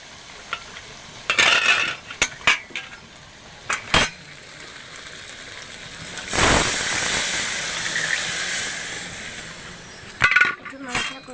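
Water poured into a pot of mutton curry frying with whole garlic cloves, a brief loud gush rising over sizzling and stirring, with clinks of a utensil against the pot close by.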